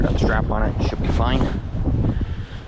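Wind buffets the microphone outdoors with a steady, loud low rumble throughout, while someone talks close to the mic over the noise.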